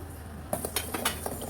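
A metal ladle stirs jaggery syrup for peanut chikki in a cooking pot, giving a few close, light clinks and scrapes against the vessel after a quiet opening.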